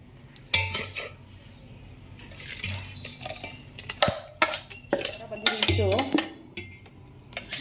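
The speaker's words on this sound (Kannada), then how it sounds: "ಇವಾಗ ಬೇರೆ ಪಾತ್ರೆಗೆ ಶೇರ್ ಮಾಡ್ಕೊಳ್ಳೋಣ" Ground moong dosa batter is scraped and poured from one vessel into another, with scattered metallic clinks and scrapes of a spoon against steel pots, close and irregular, some louder knocks among quieter rustling.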